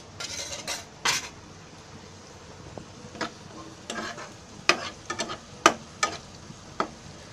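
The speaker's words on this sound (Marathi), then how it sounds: "आता मी त्याच्यामध्ये कढीपत्त्याची पानं आहेत, थोडीशीच घेतली आहे, ती टाकते." Curry leaves go into a pan of onions and are stirred, giving scattered sharp spoon clinks and scrapes against the metal over a faint, low sizzle, with no talking.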